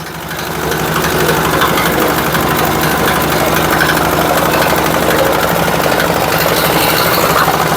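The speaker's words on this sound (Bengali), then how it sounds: "মালবাহী ট্রলার নিয়ে আসতেছে লোকজন" A cargo trawler boat's engine chugs on the Buriganga river in a loud, steady, close-up drone with a knocking vibration. It runs unbroken and alone, with no voices.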